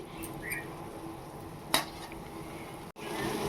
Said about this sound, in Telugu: ఇది పచ్చివాసన పోయేదాకా ఫ్రై చేసుకోవాలి